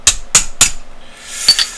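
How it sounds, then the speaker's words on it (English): A hammer strikes a punch to seat a part of a Romanian Tokarev TTC pistol: four sharp, close metallic taps, three in quick even succession and a fourth after a pause. "grab a punch, and you're going to hammer this up so that locks it in place"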